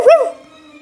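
A single short dog bark with a rising, whining tail, close and alone, followed by a faint trailing tone.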